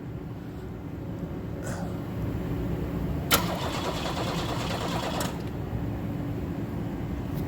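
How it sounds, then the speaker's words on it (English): The engine of a 1988 front-wheel-drive Buick cranks and catches: a low mechanical churn steps up into a louder running rumble with a sharp click partway through, close by. "Car cranks though when you turn the key."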